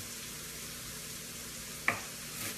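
Tomato, garlic and onion sizzle in a pan with a steady frying hiss, then a brief sharp crackle as more hits the pan; no voices.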